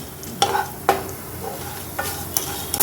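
Urad and chana dal with cumin and mustard seeds roasting in a hot pan, a soft steady sizzle broken by a few sharp scraping stirs of a spoon, close and alone with no talk.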